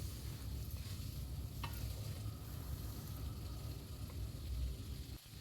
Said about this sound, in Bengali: তেল ছাড়তে শুরু করে দিয়েছে আর মশলা কিন্তু খুব ভালোভাবে কষানো হয়ে গেছে